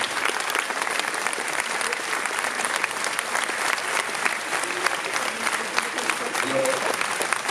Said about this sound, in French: On peut l'applaudir beaucoup.